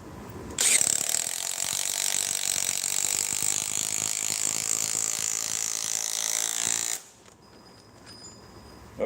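A ratchet spins a chrome socket in one long, loud, continuous run of rapid clicking that stops abruptly, followed by quieter handling noise.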